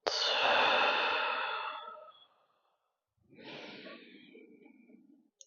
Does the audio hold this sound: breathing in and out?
yes